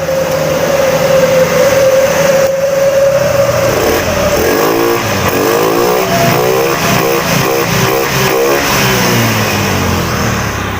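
A Honda Beat ESP scooter engine runs steadily and loudly throughout, its pitch wavering slightly as the revs rise and settle.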